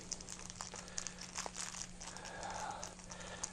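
Headphone packaging being unwrapped during an HTC Vive unboxing: faint, close crinkling and rustling of wrapping in a quick, uneven patter, with no talking over it.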